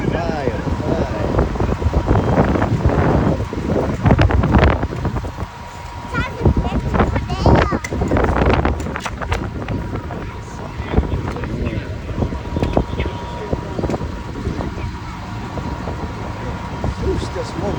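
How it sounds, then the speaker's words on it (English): Strong wind roars and buffets the microphone outdoors near a burning house in Nebraska, a loud, continuous gusting noise with people talking over it throughout. "Too windy."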